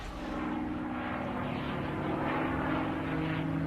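A P-51 Mustang fighter plane flies past with a steady, loud propeller-engine drone that holds constant throughout and swells slightly toward the end, with no voices.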